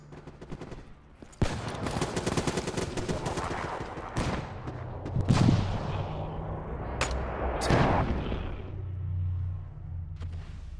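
Mobile artillery firing in the Black Ops 3 video game: heavy, booming blasts in quick succession over a dense rumble, with sharp louder impacts standing out near the middle and end, and no talking.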